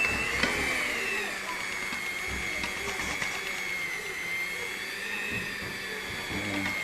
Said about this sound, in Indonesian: Ini cara mixer saya gini.